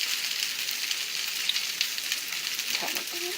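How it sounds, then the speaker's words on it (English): Scallion and fresh cilantro frying in oil, with a continuous close sizzle and faint crackles, a soft stirring scrape near the end. "What I did was I put the oil and the scallion and the fresh cilantro"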